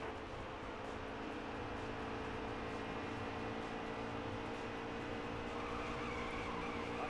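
Race cars in the NASCAR Heat 3 video game roar around the track as a dense, continuous engine drone, steady and moderately faint throughout.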